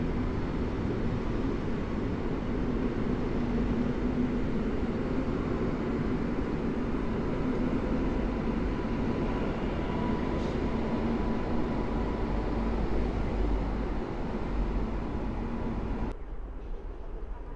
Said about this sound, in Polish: A wjeżdża pociąg z Żyrardowa do Warszawy Wschodniej.